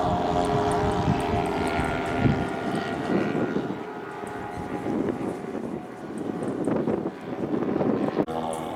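Vintage warbird airplanes flying in formation in high wind over Michigan, a steady loud propeller engine drone that rises and falls as they pass, with wind noise throughout.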